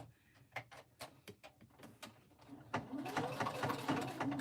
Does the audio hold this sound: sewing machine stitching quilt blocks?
yes